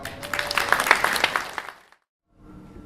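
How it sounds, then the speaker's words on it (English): A conference audience claps in a dense burst of applause for under two seconds, close and fairly lively, then it cuts to a short silence before faint background sound returns. "so if anyone can have a clap"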